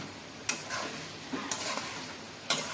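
Spoon stirring ridge gourd dry curry in a pan, with three sharp scrapes about a second apart over a soft sizzle.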